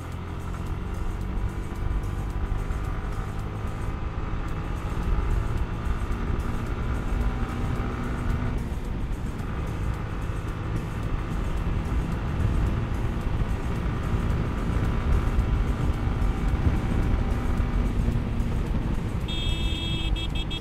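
A Yamaha R15 version 3 motorcycle, Indian version, drones steadily while being ridden and shifted through gears, a continuous close engine hum with a brief dip partway through and no talking.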